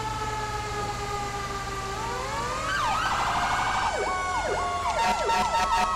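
A fire engine siren from the video game GTA 5 wails and then switches to rapid yelping sweeps, loud and close over a low engine rumble.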